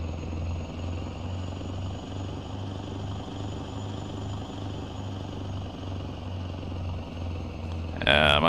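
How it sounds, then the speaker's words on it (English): A small plane in American Truck Simulator drones steadily with a pulsing propeller-like rumble over a continuous engine hum, ending with a brief louder burst. "I'm hearing this little plane somewhere."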